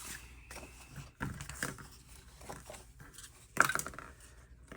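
Scissors cutting paper at a crafting table for a junk journal: a few soft snips and rustles, quiet and close, with a sharper crisp cut near the end.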